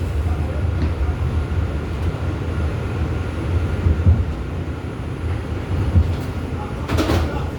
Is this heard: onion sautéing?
no